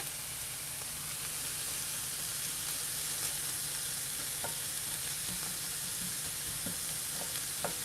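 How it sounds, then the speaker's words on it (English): Onions and mushrooms fry in neutral oil, giving a steady close sizzle with occasional crackles and pops and faint stirring, with no talking. "So I'm just going to try to get a little bit of color on these onions and get them to break down a bit and sweeten up"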